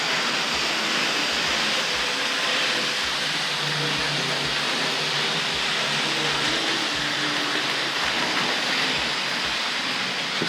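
A Hornby model train runs on its track under a control unit, giving a steady whirring, hissy motor drone throughout with faint rhythmic ticks from the wheels, and no voices.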